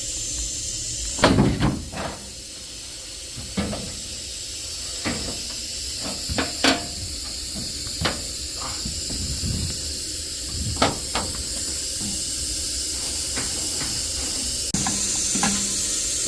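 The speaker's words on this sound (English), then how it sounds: "When that air compressor kicks on, it is loud." A loud air compressor runs steadily during work on a Trane commercial package unit's heat exchanger, its constant broadband roar and hiss overlaid with occasional metallic clunks and knocks nearby.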